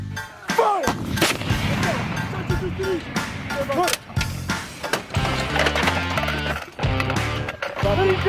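Marine artillery howitzers fire during a live exercise at Fort Bragg, several loud sharp blasts in quick succession with shouted commands between them.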